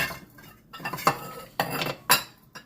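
Eggs dumped into a bowl for waffle batter make a few sharp clinks and clatters against the bowl, spaced out in short bursts with quiet gaps between them.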